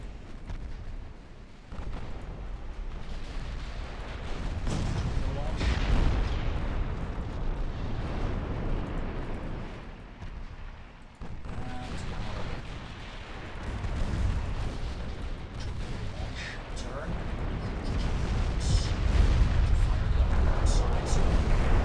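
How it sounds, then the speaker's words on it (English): Torpedo hits strike warships during a naval battle in Ultimate Admiral Dreadnoughts, heard as several deep rumbling booms and swelling explosions across the stretch, with someone talking over the battle noise. "A couple of torpedo hits."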